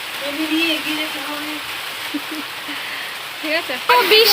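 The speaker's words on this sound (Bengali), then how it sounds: "কেমন বৃষ্টি পড়ছে" Steady rain falls in a continuous hiss of drops on surfaces, with a voice talking intermittently over it and a brief louder clatter near the end.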